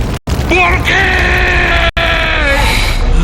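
A film creature perched on a mill roof lets out a loud, prolonged scream, harsh and close, in two long bursts broken by brief cuts, alone with no speech.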